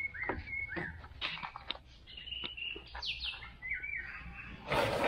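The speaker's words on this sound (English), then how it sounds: "Just so nice to wake up to the sounds of birds and just nature." Morning birdsong near a small hut at Port Barton, Palawan: several birds chirp and whistle in short, scattered calls over a quiet background, closing with a brief louder rustle.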